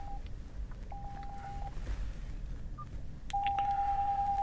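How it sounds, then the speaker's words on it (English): A Nissan Leaf's parking sensors sound a series of short, evenly spaced warning beeps while reversing out of a garage, then change to a continuous tone, over low engine-bay and road rumble. "that's the noise of the warning sensors letting me know that things are close as I drive out of the garage."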